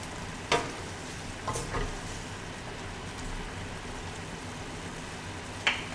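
Spoon stirring glazed food frying in a pan with brown sugar and butter, a soft steady sizzle throughout with a few sharp scraping clicks, close and fairly quiet.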